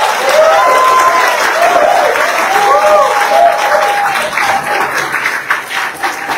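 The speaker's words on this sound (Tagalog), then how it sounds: "Pwede bang lakasan yung palakpak ninyo" Loud, sustained audience applause at a public event with a government health partner, continuous clapping from a large crowd with raised voices and a speaker's amplified voice riding over the top.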